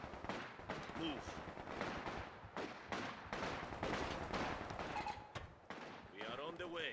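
Machine gun fire rattles in a video game battle, coming in bursts that fade in and out at moderate distance under a faint speaking voice and game noise.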